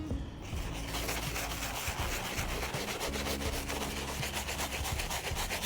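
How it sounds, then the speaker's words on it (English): A brush loaded with cleaning foam scrubs sneaker midsoles in fast, rhythmic back-and-forth strokes, close and steady, with no talking. "Next thing I'm going to do is use the standard brush and apply some foam directly onto the brush."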